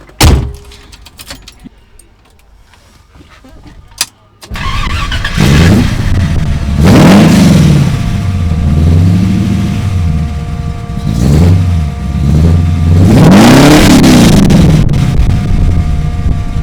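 A 1974 AMC Gremlin engine with 3-inch Flowmaster exhausts starts and then revs repeatedly, rising and falling in loud surges with a deep exhaust rumble, close by.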